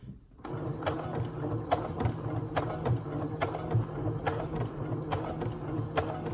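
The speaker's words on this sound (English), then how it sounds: "what we're doing now is sewing a 1/2 seam allowance" A Brother CS6000I sewing machine runs at its slowest speed stitching a seam, giving a steady close mechanical whir with an even, repeating tick of the needle, with no talk over it.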